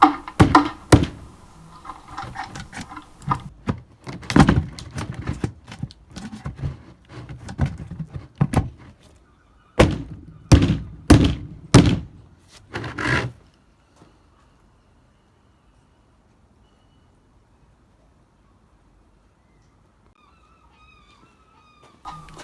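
A wooden part is hammered into place on a homemade large wooden nutcracker, a series of sharp knocks and thuds in irregular bursts, close by, before falling quiet.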